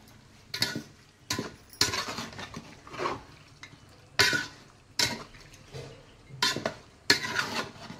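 Chicken masala stirred in a pot over a wood-fired stove, Konkan style, giving repeated scraping and clattering strokes of a utensil against the pot, moderately close, in irregular bursts with quiet gaps.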